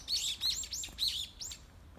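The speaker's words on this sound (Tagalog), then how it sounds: "Hello mga ibon. Nasaan kayo?" Several birds chirp in a park, bright repeated tweets in quick clusters, fairly close and clear over a quiet background with no talking.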